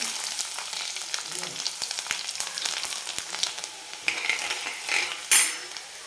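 Cumin seeds and chopped garlic sizzle in hot oil for a fenugreek-leaf stir-fry, a close, steady crackle with occasional clinks of a utensil against the pan.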